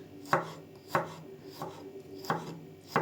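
A knife chops an onion into strips on a board, five distinct, fairly evenly spaced cuts with quiet gaps between them and no voices.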